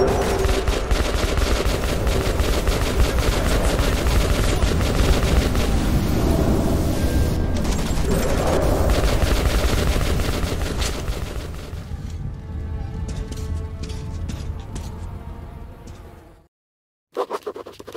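Dense, continuous gunfire and booming explosions in a tunnel in Metro 2033, a loud sustained roar that thins out after about twelve seconds, cuts to near silence, then briefly resumes.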